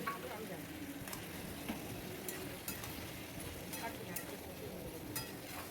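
Chopped tomatoes added to a pan with ridge gourd and potatoes for a poppy-seed dish are stirred while frying, giving a soft, continuous sizzle with a few faint scraping taps; quiet and close.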